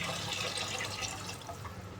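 Water poured into a pot of chicken soup, about 1.5 litres going in as a steady, continuous splashing pour at moderate level with no talk.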